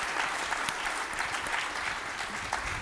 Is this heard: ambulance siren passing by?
no